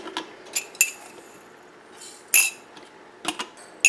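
A small baby food spoon taps and clinks against glass canning jars while salt is added to each, giving scattered sharp metallic chinks in quick groups between quiet gaps.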